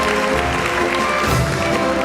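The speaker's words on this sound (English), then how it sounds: "A nice audience of applauding people would be even better" Audience applause during a tuba performance, a steady crowd clapping that holds evenly throughout, with a few faint cheers mixed in.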